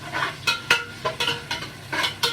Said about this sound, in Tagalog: Isotin muna natin.